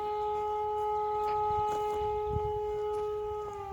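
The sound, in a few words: air raid siren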